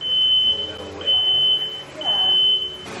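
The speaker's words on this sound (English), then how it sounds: "the fire alarm goes off" An indoor fire alarm sounds in a series of piercing, evenly spaced high beeps, loud and close, over faint background noise.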